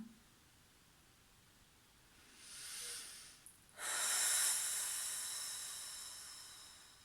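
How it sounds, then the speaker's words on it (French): Slow, deep breathing during a relaxation exercise: a soft inhale swelling and fading, a brief pause, then a longer, louder airy exhale that slowly trails off, close and alone. "on se met juste dans l'inspire et l'expire"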